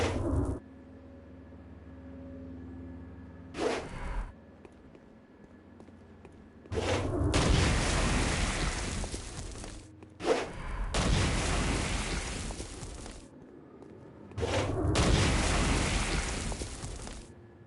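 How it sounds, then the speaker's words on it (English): Stone Blast attacks from the video game Saints Row: Gat out of Hell on PS4 go off as loud, heavy booming blasts with long rumbling bursts. A quieter game ambience fills the gaps between them. "Stone Blast is especially useful on flying demons like this one."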